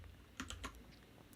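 Several crisp keystrokes tap on a Freewrite e-ink typewriter keyboard, close and fairly quiet, a short irregular cluster followed by a pause and one sharper final clack.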